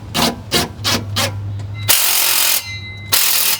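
Exhaust clamp nuts being tightened on an AWE exhaust fitted to a BMW G80 M3, with several quick ratchet clicks followed by longer, louder ratcheting runs close up.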